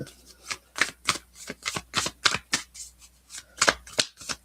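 A deck of playing cards is shuffled repeatedly in a quiet room, a rapid series of crisp riffling bursts and soft taps, close and clear with no talking.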